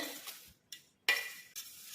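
Ground urad dal, jaggery and cardamom powder being stirred for ghee sunnundalu sweets: four quick, close scraping strokes against a bowl with short pauses between, no voices.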